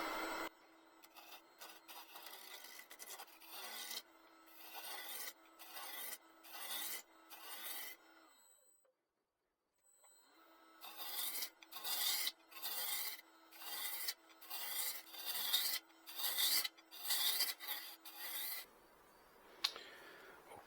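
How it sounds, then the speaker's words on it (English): A spindle gouge cuts an end-grain wooden bowl turning on a lathe, making repeated raspy scraping passes in a steady rhythm under a faint motor hum, with a brief pause partway through and no speech. "I think I use spindle gouge. To round this off."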